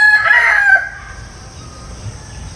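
A rooster crows once, loud and close, the call trailing off after under a second into a quiet room tone.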